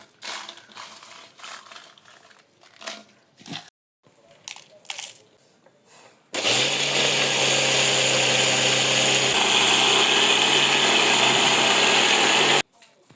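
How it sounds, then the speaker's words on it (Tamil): Mixer grinder blending soaked rice with garlic, chili and salt, a loud steady whirring roar lasting about six seconds after quieter handling sounds, ending abruptly. "பெருஞ்சீரகத்தை சேர்த்து மறுபடியும் நல்லா மிக்சியில் மிக்ஸ் பண்ணுறோம்."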